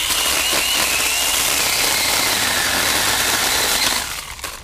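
A Ryobi 18V cordless pole saw cuts through cedar branches with a steady, loud buzzing whine that runs without a break before dropping off near the end.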